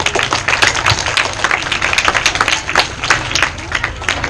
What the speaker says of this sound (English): Wow, clap clap.